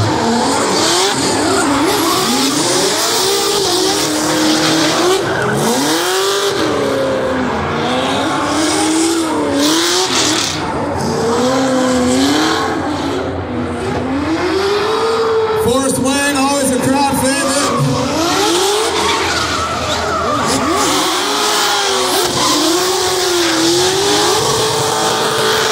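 Nissan 350Z and Nissan S15 drift cars skidding around a skid pad at a Formula Drift show, with sustained tire squeal and wavering, revving engines throughout, loud and close, under continuous commentary.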